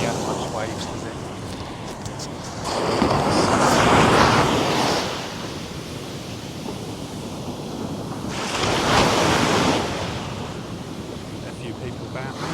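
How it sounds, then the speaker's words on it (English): Ocean waves break on a Lagos beach in two big surges of rushing surf over a constant wind-buffeted background, close and loud. "It's not the Atlantic. Waves."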